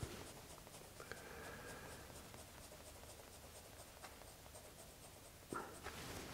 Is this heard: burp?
no